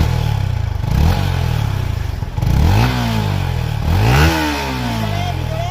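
A Yamaha XSR 155 motorcycle engine fitted with a new iridium spark plug runs loud and close, idling with clattery mechanical noise, then revs up in two rising throttle blips that fall back to idle.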